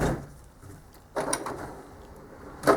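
A tool chest drawer holding hammers, files, springs and grub screws slides open or shut, giving a soft rolling rumble followed by a brief louder clunk near the end, close by with no talk.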